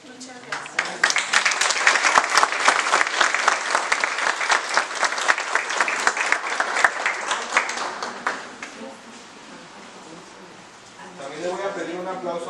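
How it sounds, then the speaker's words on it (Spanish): An audience claps steadily for several seconds, the applause fading out before someone starts speaking. "Aplauso para el grupo de adultos mayores"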